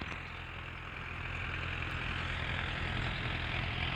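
A farm tractor engine runs with a field leveling machine attached, giving a steady, continuous mid-pitched drone that swells slightly and holds at constant loudness throughout.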